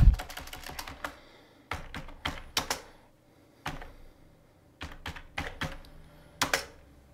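Git commands typed on a computer keyboard come as short bursts of crisp, close key clicks separated by pauses, with no voices.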